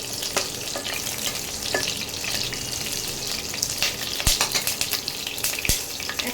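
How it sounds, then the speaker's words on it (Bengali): Whole dried red chilies and slit green chilies fry in a pan, giving a continuous close crackling sizzle with occasional sharp pops and spatters, no voices. "একটু ভাজা ভাজা হোক।"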